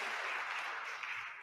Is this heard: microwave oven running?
no